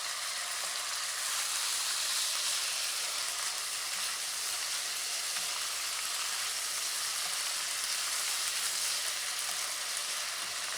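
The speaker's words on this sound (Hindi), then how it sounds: "इसको थोड़ा सा फ्राई होने देंगे" Thin marinated meat fries in a pan with a steady, dense sizzle and crackle, close and continuous with no voices.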